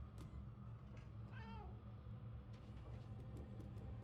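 A cat in Murdered: Soul Suspect gives a short, faint meow over a steady low rumbling ambience, with no voices.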